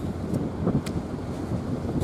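Wind blowing across the microphone at Shiogama harbour while goby fishing, a low, steady rumble with soft gusting swells and no talk.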